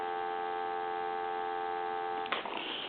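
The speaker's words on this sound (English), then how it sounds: "Give you some dial tone." A steady dial tone from a Coca-Cola animated polar bear novelty telephone hums continuously, then a brief click cuts in near the end and the tone shifts.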